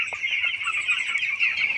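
Several 12-day-old chickens on a poultry farm cluck and chirp together in a steady, busy chatter, fairly close, with no voices present.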